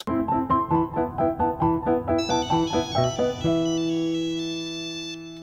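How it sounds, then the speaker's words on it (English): A mid-to-late 90s satellite-style cell phone ringtone plays a rapid repeating electronic melody in steady pulsed notes, then shifts to a sustained higher chiming tone that slowly fades, loud and close with no voices. "it's that cell phone ring, that mid to late 90s satellite phone type ring"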